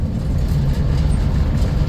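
A 1991 Dodge Grand Caravan minivan, fitted with a replacement transmission and running with hot brakes, drives steadily at around 40 mph, giving a continuous low engine and road rumble heard from inside with no talking.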